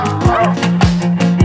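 Lola, a pet dog, gives a run of short yipping barks, about four sharp close bursts spaced at a brisk, uneven rhythm, loud and clear, with faint background sound between them.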